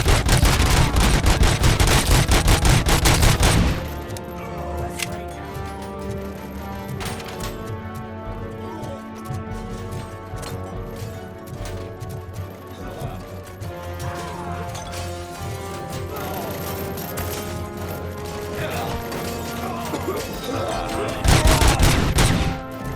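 Heavy gunfire from the video game Robocop: Rogue City, with dense bursts of automatic fire at the start and end and steady, crackling shots over a continuous combat din and music in between.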